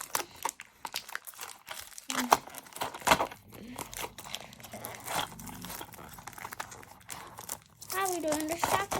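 Close, crackling crinkles and rustles of plastic toy packaging being opened come in bursts, with someone talking over the noise at times.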